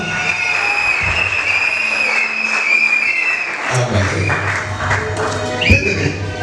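A church congregation applauds during a dedication service, sustained clapping with other room sounds and some indistinct voices mixed in, growing busier partway through.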